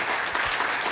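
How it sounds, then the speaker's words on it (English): Audience applause at a Lunar New Year celebration in Rockville, following a dance performance; a short, steady burst of clapping from a crowd, fairly loud and continuous with no pauses. "So let's give them a big applause for their wonderful performance."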